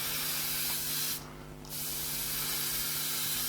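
An airbrush sprays paint in a steady, close hiss around a hand-held shield during a simple practice exercise, pausing briefly partway through before the spray resumes.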